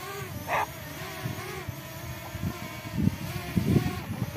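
A DJI Mini 2 SE drone's propellers spin up close by, a steady high whine with harmonic tones that waver in pitch, over low handling bumps and thumps.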